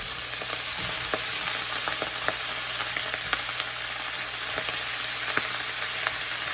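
Taiwanese lettuce (A choy) stir-fries in a pan with a soft, continuous sizzle dotted with light clicks and taps from stirring, heard alone.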